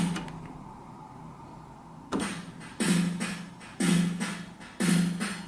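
Recorded track played back from track 9 of a Tascam Model 24 mixer with its delay effect, a few soft swells followed by four evenly spaced repeating bursts that decay between hits.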